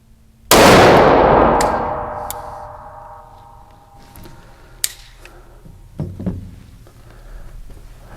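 A single sharp shot from a non-compensated Staccato P pistol, loud and close, with a long ringing decay, followed by quieter clanks and handling noises and a faint second impact.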